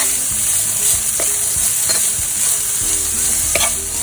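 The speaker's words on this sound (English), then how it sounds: "I'm not going to fry the onion till it gets any color, but just becomes translucent." Onions frying gently in a pan until translucent, a loud close sizzle with rhythmic spatula scrapes and knocks against the pan, no one speaking.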